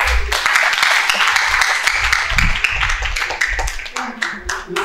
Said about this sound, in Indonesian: wah, kasih tepuk tangan